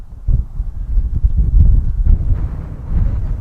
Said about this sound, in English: I hope the sound's coming through alright because it's very windy up here